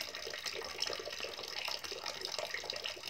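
Water draining out of a sump tank in a storage and level-measuring setup: a steady, close rushing and gurgling flow with a continuous trickle, no pump audible.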